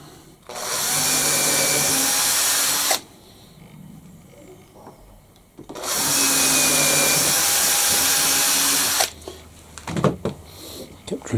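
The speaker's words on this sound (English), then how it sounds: "Kept drilling through the same hole" A power drill whines loudly in two long bursts of a few seconds each, drilling through the same hole in a small bird feeder optic part, with quieter handling noises and clatter in between.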